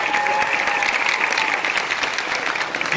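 Crowd at a convention closing ceremony gives a round of applause, a thick, steady roar of many clapping hands, loud and unbroken, with no talk over it.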